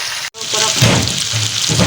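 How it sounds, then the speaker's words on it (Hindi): Fish frying in a pan with a loud, dense, close sizzle. A brief dropout comes near the start, then the crackle runs on without a break. "इसको फ्राई करके तो मैं निकालती हूँ।"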